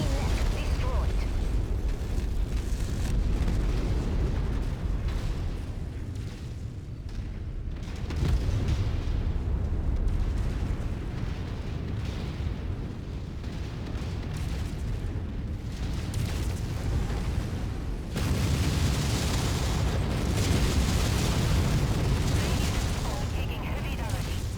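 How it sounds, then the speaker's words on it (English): A destroyed mech explodes in MechWarrior 5: a long, heavy rumbling roar of blasts and grinding machinery that swells and ebbs, then surges again loudly near the end, with talk over it at times. "Enemy mech destroyed."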